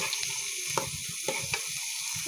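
Chopped vegetables hit a hot pan in a home kitchen, giving a steady broadband sizzle with a few sharp crackles and stirring scrapes throughout, fairly close and with no voices.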